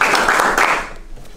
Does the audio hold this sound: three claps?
yes